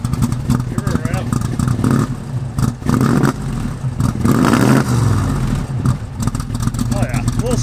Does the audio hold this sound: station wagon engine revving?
yes